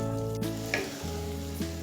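Stuffing for spiny gourd (kakrol) sizzles steadily in a pan with oil as it is cooked down, with a few soft stirring scrapes breaking through the continuous close frying hiss.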